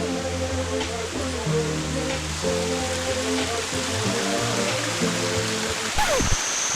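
Rushing water from a jungle waterfall and streams in Mindo, Ecuador, gives a steady hiss. A low tonal hum runs underneath the water sound.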